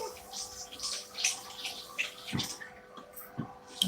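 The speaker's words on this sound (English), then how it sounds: "let me quickly rinse my hand" Hands are rinsed under running kitchen water during home cooking, giving irregular splashing and gurgling bursts with a few brief clinks, close and fairly loud, fading out near the end.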